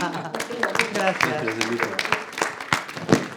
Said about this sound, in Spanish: Así que un aplauset.